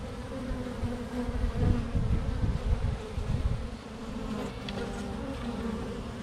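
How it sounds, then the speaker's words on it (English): Honeybees buzz steadily at the hive while one fans, a close, continuous drone of many wings with a low hum swelling and easing slightly, no voices. "This bee right here, standing there fanning."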